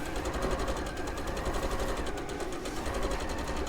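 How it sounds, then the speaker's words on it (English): A sewing machine stitches jersey fabric for a skirt with a quarter-inch seam allowance, a steady fast mechanical whir and rhythmic needle chatter running continuously, close and fairly loud, with no talk. "I'm going to start stitching."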